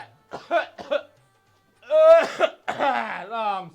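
A person coughs in a rural Bundeli comedy sketch set in cold weather, several short rough bursts mixed with voiced strained sounds, close and moderately loud.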